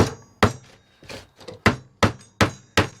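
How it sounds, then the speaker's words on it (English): Sharp hammer blows drive fasteners home while a mini bike seat is fitted, about eight distinct knocks in an uneven rhythm, loud and close with nobody talking. "You just hammer these home."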